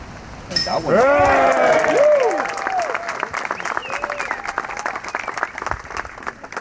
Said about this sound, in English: And you can hear how excited the crowd is.